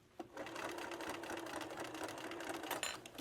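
A sewing machine stitches and backstitches a ruffled collar on a thrifted shirt, giving a steady, close, continuous mechanical whir for about three seconds with no talking.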